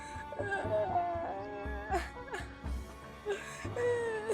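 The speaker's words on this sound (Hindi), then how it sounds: "क्यों रोए जा रहे हो?" A child crying and whimpering somewhere out of sight, with wavering wails and sobs rising and falling unevenly among background noises, heard at moderate distance.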